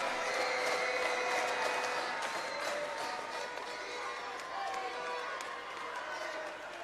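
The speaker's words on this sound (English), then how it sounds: "The crowd's heckling." Crowd noise at a BigV Division 1 Women's basketball game, Craigieburn versus Western Port, with spectators jeering after an unsportsmanlike foul. A steady, loud indoor din of voices and shouts fills the whole stretch, with some claps and squeaks.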